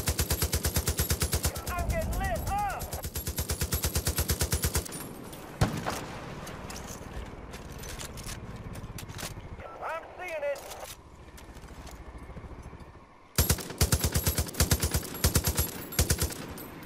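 Rapid bursts of automatic gunfire in Far Cry 5, loud dense volleys opening and closing the stretch, with quieter game sounds and a voice talking in between.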